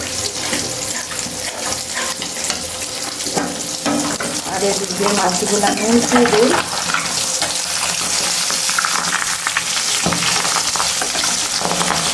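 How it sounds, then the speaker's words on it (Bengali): Onion, chilli and salt masala sautéing in a pan with liquid added, a loud continuous sizzle and bubbling with stirring scrapes running the whole way through. "তো এটা ভালোভাবে কষানো হোক"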